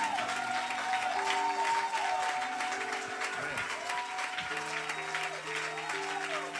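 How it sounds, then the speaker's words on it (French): Congregation clapping throughout a Sunday church service, the applause steady and continuous beneath sustained musical tones and a voice. "nous le recevons au nom de Jésus par des acclamations"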